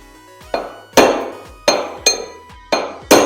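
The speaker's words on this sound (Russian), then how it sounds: "бьете, вы почувствуете, когда подшипник сядет полностью, будет такой другой звук отличаться от" Hammer blows driving a bearing into the welded, non-separable tub of a washing machine: six sharp metallic strikes at a steady rhythm, loud and close, each ringing briefly before the next.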